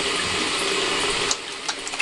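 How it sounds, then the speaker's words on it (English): Tap water running hard into a sink while hands are washed, a steady close hiss that breaks off near the end into a few splashes and drips. "So that's what I'm going to do right now, is wash my hands."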